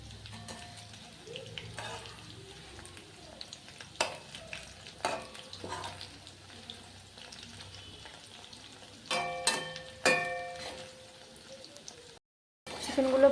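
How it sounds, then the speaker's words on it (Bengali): Chicken pieces fry slowly in a pan for ginger garlic chicken, giving a soft continuous sizzle broken by several sharp scrapes and clatters as the pieces are turned, with a brief dropout near the end. "একটু রেড রেড করে ভেজে নিচ্ছি উল্টে পাল্টে"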